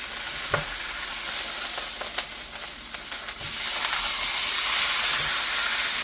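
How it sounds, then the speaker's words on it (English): Beef pot roast sears in a hot pan, a steady close sizzle and hiss with a few faint clicks and scrapes, the frying growing slightly louder toward the end, with no one speaking. "We want to sear it on all sides."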